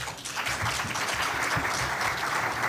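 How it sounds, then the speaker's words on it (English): Audience applause at a 2006 Illinois State Comptroller debate in Chicago, a dense, steady burst of clapping filling the room from start to finish. "a round of applause for Carol Panko, please"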